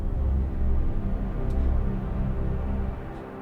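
Sonicware Texture Lab running as a live granular effect with pitch turned all the way down, giving a dense, low, rumbling granular wash that stays steady and loud throughout, with faint brief high flickers.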